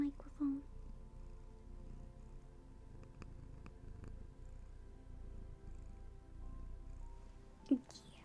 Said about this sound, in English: Yeah, you're purring into the microphone.